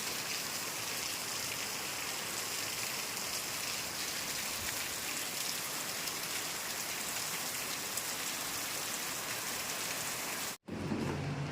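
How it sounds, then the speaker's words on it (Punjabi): Heavy rain pours down in a continuous roar of drops on a surface, then cuts off abruptly near the end. "ਬਾਰ ਬਾਰ ਬਾਰਿਸ਼ ਹੋ ਰਹੀ ਆ"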